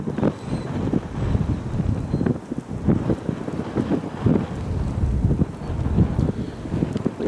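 Gusty wind at a plane-spotting spot by Cleveland Hopkins airport buffets the microphone in a loud, continuous rumbling roar that rises and falls in waves.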